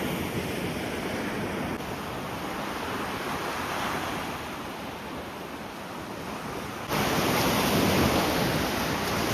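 Black Sea surf at Odesa washes steadily onto a beach in a broad, hissing roar, with wind buffeting the microphone and the noise surging louder toward the end.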